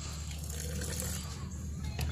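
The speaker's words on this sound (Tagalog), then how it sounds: "Tapos lalagyan po natin ng konting tubig." Water trickles into a container of pigeon feed being moistened for hand-feeding young birds, a short, steady pouring splash with faint background noise.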